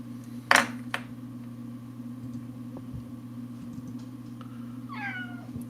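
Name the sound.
pet cat meowing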